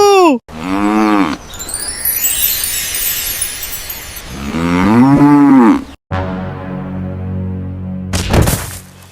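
A cow moos loudly and close up in two long, drawn-out calls, and a brief rattling knock follows near the end.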